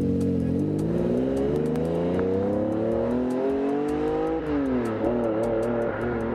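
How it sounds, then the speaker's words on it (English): A 1992 Lamborghini Diablo's engine revs and pulls hard through rising gears, loud and close, with a brief dip before it climbs again. "getting ready to take it for a little spin"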